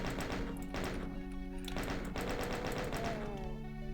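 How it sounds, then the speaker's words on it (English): Chaingunner enemies in the video game Doom fire rapid bursts of machine-gun shots, loud and close, with a constant game hum underneath. "We've got chain gunners now."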